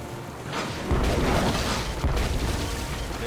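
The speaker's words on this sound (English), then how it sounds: "Then empty the cannons on him, me hearties." Cannon fire aboard a pirate ship in the Tales of Monkey Island video game comes as a heavy, booming roar over a busy background, with two stronger thumps within a few seconds.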